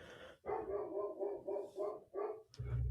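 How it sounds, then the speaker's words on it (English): A dog barks repeatedly in a steady run of loud, close yaps, with short pauses between bursts and a heavier thump near the end, with no speech. "dog's going crazy in the background"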